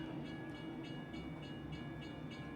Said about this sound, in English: Train is approaching